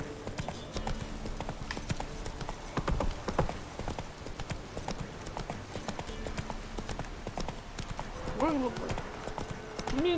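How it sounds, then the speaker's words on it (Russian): Horse hooves clip-clop steadily at a gallop in The Witcher 3, a continuous rhythmic beat of game audio with ambient sound and a brief whinny-like tone near the end; someone talks over parts of it. "Мне иногда нравится на лошадке проскакать."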